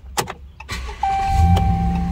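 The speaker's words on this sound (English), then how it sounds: "Car starts." A car starting with a new simple key: a few clicks and a brief crank, then the engine catches and settles into a steady idle with a faint whine, close and loud.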